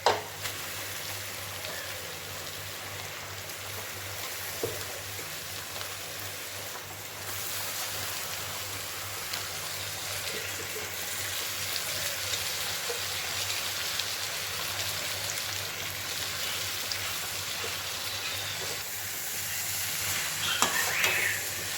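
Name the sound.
mixing and frying egg noodles in a pan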